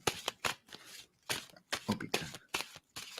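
Tarot cards are shuffled near the microphone in quick riffling bursts, about eight brisk flurries with short gaps between them.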